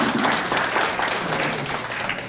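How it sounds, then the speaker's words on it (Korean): Dense, steady applause from an audience at a public forum on railway planning, continuous and fairly loud for the whole stretch, with no talk. "박수 한번 해주세요"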